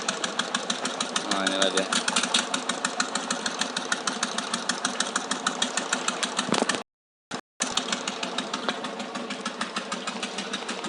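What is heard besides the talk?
engine running during repair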